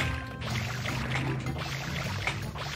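Super Mario Sunshine's Mario swims through a poisonous lake, sending up soft, continuous watery splashing and sloshing at moderate distance under steady game music, with no talking.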